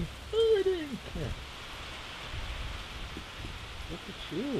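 Steady rain pours down during a hurricane, a dense even wash of drops on surfaces; a cat meows a few times over it, and brief voices and movement come through close by.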